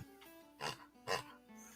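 Two short grunts sound in close succession, faint and husky over a quiet background hum.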